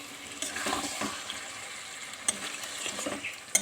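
Mutton kosha stirred and fried in a covered pan, its fat already melted down: a steady close hiss of frying with scraping stir strokes and a couple of sharp clinks near the end.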